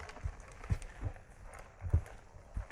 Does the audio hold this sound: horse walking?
yes